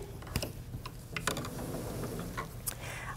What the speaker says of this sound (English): I'm just going to stitch all the way around the circle, break my stitching line.